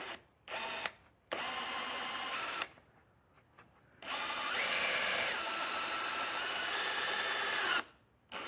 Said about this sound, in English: Remove the two 13 millimeter bolts on the frame rails.